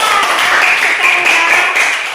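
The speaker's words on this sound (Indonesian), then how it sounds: "Iya, tepuk tangan." Steady, dense clapping from a class of schoolchildren, continuous for a couple of seconds, with a murmur of voices mixed in.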